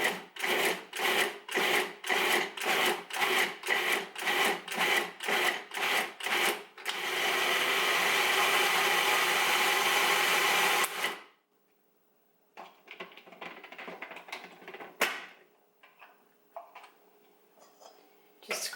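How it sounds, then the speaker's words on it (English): Cuisinart 14-cup food processor with plum tomatoes, pulsed about a dozen times in quick, even bursts, then run continuously for several seconds, followed by quieter scraping and clatter. "I'll pulse a few times and then use the on lever to puree."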